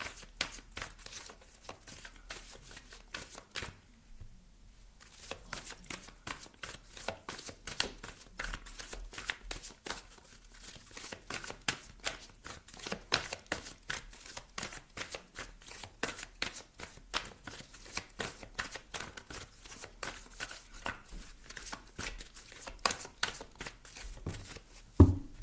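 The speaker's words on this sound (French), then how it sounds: "on va aller prendre une carte ici du tarot psychique de John Holland" John Holland psychic tarot cards are shuffled continuously for about 25 seconds, a steady stream of close, soft papery riffling and slapping with no talking.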